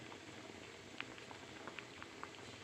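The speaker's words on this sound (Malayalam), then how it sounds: "അങ്ങനെ തിളച്ചുകൊണ്ടിരിക്കുന്ന കറിയിലേക്ക് 1/4 സ്പൂൺ ഉലുവാപ്പൊടിയും പാകത്തിന് ഉപ്പും ചേർത്ത് നമുക്ക് അടച്ച് വെച്ച് വീണ്ടും കുക്ക് ചെയ്യാം" Mackerel fish curry with fenugreek powder and salt simmers in a covered pot, a faint, steady low bubbling with a few small pops and blips, no voices.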